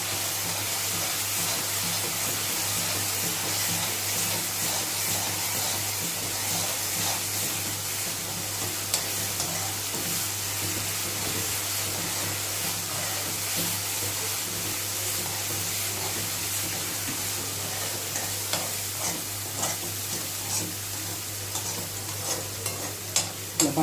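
Chilli powder and cumin paste fry in a pan with a continuous, dense sizzle and hiss, while a spoon stirs through the mixture in soft, irregular scrapes close by.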